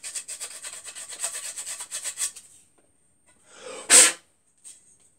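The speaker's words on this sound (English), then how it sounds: "There's a very slight burr on the end, so I'll just give it a smooth with some emery." Emery cloth rubs a slight burr off the end of a metal part in quick, even back-and-forth strokes for a couple of seconds, followed by a pause and one sharp louder rub or puff.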